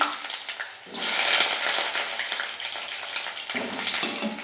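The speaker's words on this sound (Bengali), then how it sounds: "তেলটি গরম হয়ে গেছে এর মধ্যে আমি এই আলুটিকে দিয়ে দেবো" Potatoes drop into four spoons of hot oil in a wok, and a sudden, loud sizzling rush swells up. It holds as a dense, crackling hiss, easing slightly before flaring again near the end.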